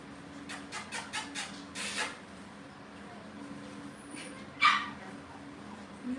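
Cavalier puppies yap and bark in a quick burst of short high calls early on, then a single sharper yip later, fairly close over a quiet indoor background.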